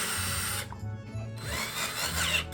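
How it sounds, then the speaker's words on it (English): A power drill whirs close up in two bursts separated by a short pause, its motor pitch rising and falling. "what am I even drilling in there?"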